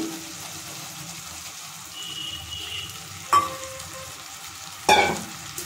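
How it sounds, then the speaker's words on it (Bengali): Water used to rinse ground spices poured into a hot pan of coconut, green chillies and poppy seed, with a low ongoing sizzle broken by two sharp bursts of splashing hiss. "এবার দিয়ে দিচ্ছি মশলা ধোয়া জল।"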